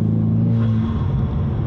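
An Ecoboost Mustang's turbocharged engine rumbles loudly and close, with a low steady drone that shifts in pitch as the turbo spools up over a short stretch.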